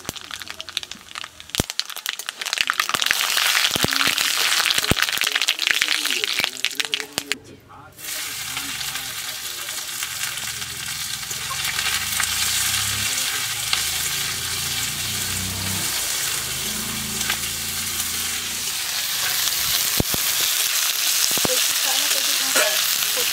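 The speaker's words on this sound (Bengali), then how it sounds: "তেলের উপর দিয়ে দেব দুটো তেজপাতা মাঝখান থেকে হাফ করে দেব আর শুকনো লঙ্কা আর দেব সরষে" Bay leaves, dried red chillies and mustard seeds sizzle and crackle in hot oil, a steady close frying hiss with scattered pops and spoon stirring throughout, no talking.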